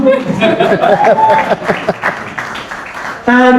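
A crowd at a music listening session applauds and chuckles while a voice keeps talking over the clapping, which stays moderately loud before a brief sharp burst of sound at the end.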